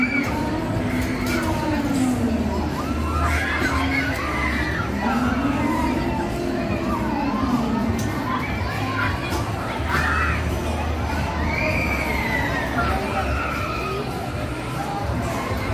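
Crowd of people screaming on fair rides at the Pacific National Exhibition in Vancouver, a continuous mix of distant shrieks and yells over steady mechanical ride noise and general fairground bustle, with voices talking nearby.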